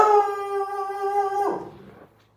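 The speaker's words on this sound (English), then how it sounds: "dogs are excited." A single drawn-out dog howl, steady and loud up close, that breaks off abruptly and fades into quiet.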